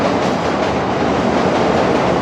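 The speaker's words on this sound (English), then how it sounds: "Here comes the train coming, so I go, a little noise coming" A train passes close by, a loud, steady rumble of rolling wagons with faint clickety-clack running through the whole stretch, no voices over it.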